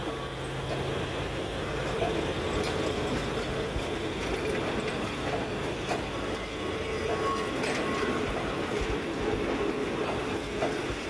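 Thai railway train number 281 rolling past with a steady loud rumble and faint clickety-clack of wheels over rails, continuous throughout, with a voice faintly audible under the noise.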